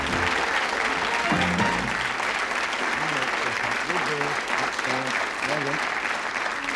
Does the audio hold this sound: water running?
no